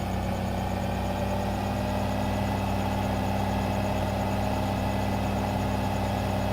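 A tractor engine idles in Farming Simulator 2015, giving a steady, loud, low mechanical drone with a constant rumble and an even hum that stays unchanged throughout, with no voices.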